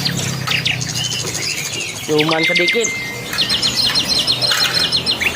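Caged songbirds, kacer and pentet, chirp and whistle in bright, rapid repeated phrases and trills, close and loud, with bursts of song overlapping; someone speaks briefly in the middle.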